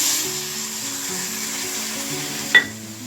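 Pork masala stirred through fried onions in a pan, giving a steady close sizzle with faint scraping and one brief sharp clink near the end; no voices.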